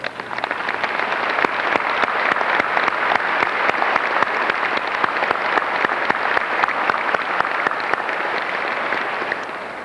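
Steady, dense applause from a large audience in an arena at a 1994 university graduation ceremony, continuous and even for the whole stretch with no voices.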